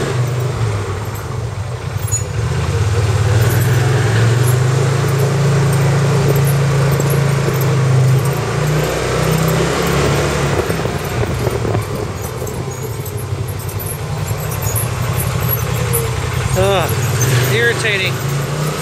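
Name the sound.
squeaky brakes on a Honda Wildcat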